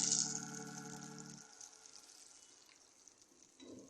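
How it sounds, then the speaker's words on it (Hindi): Beef keema tikki patties fry in a pan over low heat, a soft continuous sizzle with a faint hum at first that fades to a quiet, steady crackle, and a small clink near the end. "साथ साथ इसको फ्राई कर रही हूँ"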